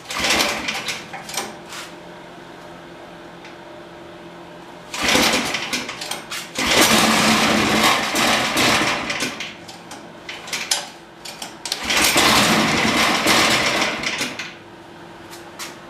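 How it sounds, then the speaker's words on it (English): A small engine on an abandoned go-kart being restarted and idled after an idle adjustment, running in rough rattling bursts that rev up and die back, with quiet gaps between runs. "let me adjust the idle a little and we'll see if we can get it to idle"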